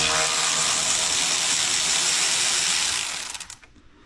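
A ratchet clicks rapidly and continuously at close range, unbolting the power steering pump on a 2010 Ford Explorer 4.6L, a dense metallic buzzing that runs for a few seconds before slowing to a stop.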